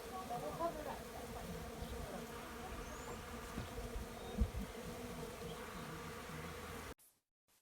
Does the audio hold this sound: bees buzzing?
yes